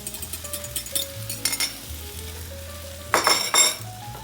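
Eggs dropped into a hot pan of Maggi goreng noodles frying, with a steady sizzle and crackle plus a few scraping stirs and a louder burst of frying near the end; no talking.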